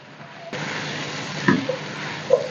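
Mixed vegetable sabzi sizzles in a pan, a steady close hiss that starts abruptly after a brief quiet moment, with a few soft stirring knocks toward the end.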